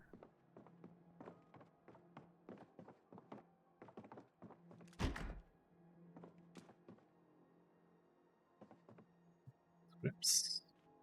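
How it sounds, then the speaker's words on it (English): Zombies bang on wooden fences around a property in Project Zomboid: a long run of quick, dull thuds in uneven bursts, with one heavier crash midway and quiet talk in the background. "maybe they're banging here on these fences around the property"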